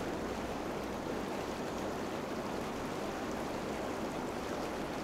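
Loud, dense water bubbling and rushing recorded while swimming, a steady broadband wash with no pauses from start to finish, heard close up and alone.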